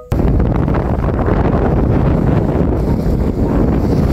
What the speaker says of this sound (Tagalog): sabi sa'yo sobrang lakas ng hangin eh